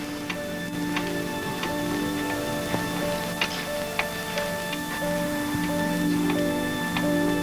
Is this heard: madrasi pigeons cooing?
no